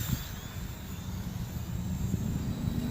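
Hubsan H501S quadcopter drone flying at night, a steady buzzing motor drone that stays fairly even and moderately near throughout.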